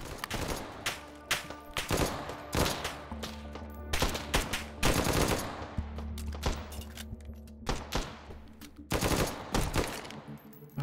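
Automatic fire from a switched pistol in H3VR, short rapid bursts and single sharp shots spread irregularly, mixed with clunky handling thuds and a low hum, all close and loud.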